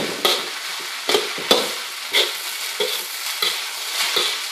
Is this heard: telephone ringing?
no